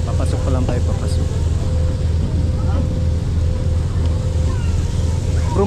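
A boat engine runs steadily throughout on a trip toward Pascual town, a loud continuous low drone with a faint tonal hum above it, holding constant with no pauses.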